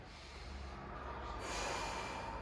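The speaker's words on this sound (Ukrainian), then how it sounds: "Зробили вдих." A person drawing breath during a gentle ab exercise makes a long, breathy nasal inhale that swells in the latter half, close and quiet, with no speech.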